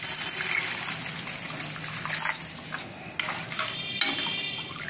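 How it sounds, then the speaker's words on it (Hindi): Half a litre of water poured into a pan for vegetable manchow soup, a trickling splash with faint clinks of utensils against the pan, steady and close with no talking. "मैंने आधा लीटर इसमें पानी डाला है"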